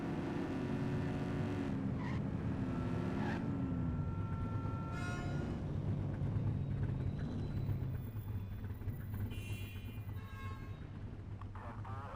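A car speeding past on a city street in the police game The Precinct, a steady engine drone with a horn toot and tyre noise, continuous and fairly close, with game voices talking over it.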